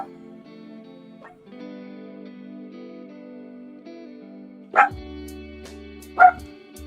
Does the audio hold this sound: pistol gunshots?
no